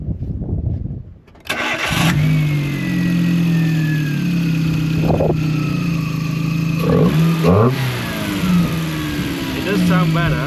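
A 2005 Chevrolet Matiz with a 1-litre engine cranks and fires up, then settles into a steady, close idle with a couple of brief revs near the end, all with no talk over it.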